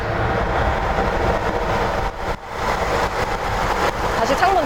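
Road roar of a large truck alongside a Volvo XC90 at speed, heard through an open window as a loud, steady rumbling wash, briefly dipping, while someone talks over it.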